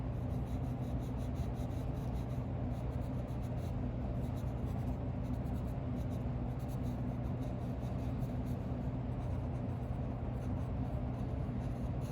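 A colored pencil scratches continuously across the paper of a coloring book while a patterned dress is colored in, the soft rubbing steady and close for the whole stretch with no talk.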